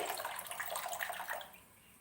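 Rice is washed under running water, a soft splashing, trickling stream with light sloshing that fades toward the end, heard alone at low level.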